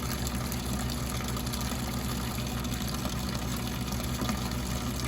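Windshield washer pump on a 1973 Porsche 911 left in a barn for 22 years, a steady continuous whirring hum with liquid rushing, constant in level throughout and nearby, with no voices.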